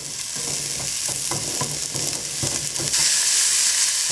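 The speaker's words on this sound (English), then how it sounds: "There's a pinch of salt. We're going to lightly saute it." Vegetables with tomatoes, green peppers and a pinch of salt being lightly sautéed in a pan, giving a loud continuous sizzle with light clicks of stirring throughout.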